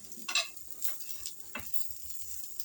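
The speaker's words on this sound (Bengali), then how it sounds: "এই যে ভাজা আলুগুলো কিন্তু আমি এই যে ভেজে নিচ্ছি" Fried potatoes frying and being stirred in a pan, soft sizzling with a few scraping stir strokes at irregular intervals, close but fairly quiet with no talk.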